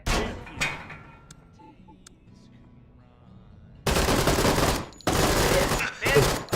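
Bursts of automatic gunfire fill the game Door Kickers 2, with a short volley at the start, a quiet stretch with a few faint clicks, then loud sustained fusillades in two or three blasts.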